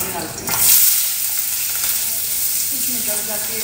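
Asafoetida hits cumin seeds in hot oil with a loud, close, steady sizzle that flares briefly near the start and then fries on evenly throughout.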